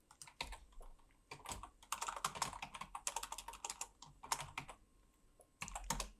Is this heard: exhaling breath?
no